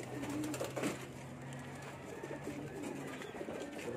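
Pigeons coo in a loft with eggs and breeders nearby. Low, rolling calls repeat close by over a steady background hum.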